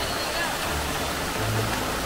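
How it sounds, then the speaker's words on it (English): Water pours in a steady, dense rush down a flooded hiking track on the Milford Track, a continuous close waterfall-like roar with no breaks. "The path, the track itself was just one big waterfall"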